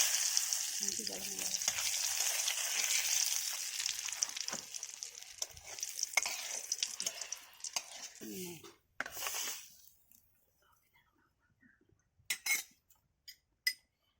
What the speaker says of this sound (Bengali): ফোড়ন হিসাবে তেজপাতা আর শুকনো লঙ্কা দুটো দিয়ে দিলাম